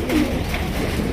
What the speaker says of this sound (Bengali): এখানে রয়েছে খুবই সুন্দর একজোড়া ডেনিশ কবুতর